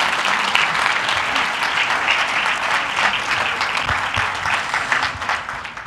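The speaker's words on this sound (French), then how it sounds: "J'aimerais qu'on applaudisse encore tous les ados qui nous ont offert ces beaux chants." An audience applauds teenagers after their songs at a church gathering, with dense, sustained clapping from a crowd, steady and fairly loud from start to finish.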